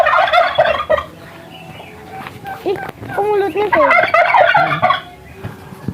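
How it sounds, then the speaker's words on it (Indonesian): Loud bursts of turkey gobbling, rapid warbling calls repeated close by, with a person briefly speaking between them. "Pasti berisik kalkun."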